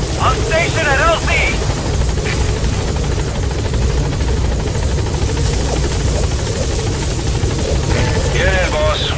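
A support helicopter in Metal Gear Solid V hovers close with a loud, steady rotor thrum that holds throughout, while brief radio-style voice chirps cut in near the start and end.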